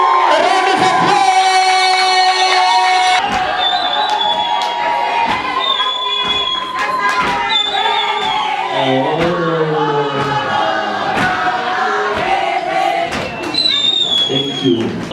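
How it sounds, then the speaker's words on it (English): A loud crowd cheers, whoops and shouts at a Face of Devotion pageant event in Gauteng, with bursts of voices and thumps filling the whole stretch. "A round of applause!"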